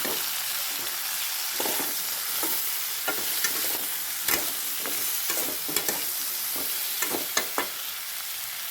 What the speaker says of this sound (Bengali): আমি কিছুটা নুন এবং 1 চামচ পরিমাণে হলুদ গুঁড়ো দিয়ে আর একটু ভেজে নেব